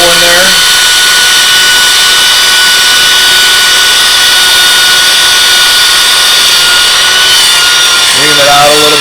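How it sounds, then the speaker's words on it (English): A power drill bores a 3/16-inch hole in PVC pipe for a fry grow-out container, giving a loud, steady high whine that runs the whole time. "I'm going to drill that 3/16 hole in there."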